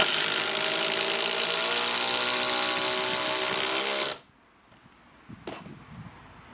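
A power driver sinks a 100mm batten screw in one loud, sustained whirring run of about four seconds, cutting off sharply, followed by a couple of faint knocks.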